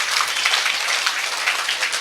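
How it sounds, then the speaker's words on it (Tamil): Audience at a summer-class closing ceremony in Salem clapping together in continuous, even applause that stays loud for the whole stretch. "நம்ம எல்லாம் சேர்ந்து இப்போ அட்வான்ஸாக ஒரு வாழ்த்துக்கள் கைத்தட்டலாம்"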